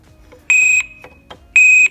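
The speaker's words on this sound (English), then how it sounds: "it gives you that warning because it's detected that there's some movement there" A motorbike security alarm set off by movement of the locked bike gives two loud, shrill electronic beeps, each about a third of a second long, with quiet handling noise between them.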